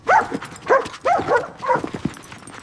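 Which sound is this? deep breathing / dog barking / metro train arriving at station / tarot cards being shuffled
dog barking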